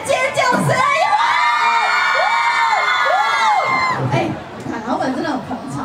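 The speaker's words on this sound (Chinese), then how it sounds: "来点尖叫声！" A crowd at an outdoor Levi's music event at Taipei's Xinyi Xiangti Square screams and cheers loudly, with high sustained shrieks and whoops over talk.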